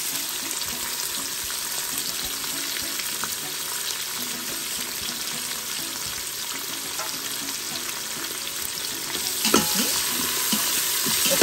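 Thinly sliced onions and green chillies sauté in a pan, a constant hissing sizzle with occasional stirring scrapes, close and even throughout, with a brief clatter near the end.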